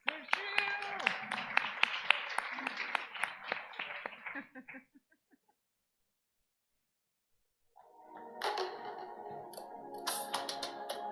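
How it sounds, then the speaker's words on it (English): Audience applause at an international youth work conference, a crowd clapping densely for several seconds, fading into silence before a microphone voice resumes with room noise. "A round of applause."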